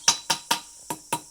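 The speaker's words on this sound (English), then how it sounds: "with the planishing hammer, you can not only get this nice hammered look" Five sharp metallic taps from a planishing hammer denting a pewter coathook, evenly spaced and ringing briefly, close and clear with nothing else heard.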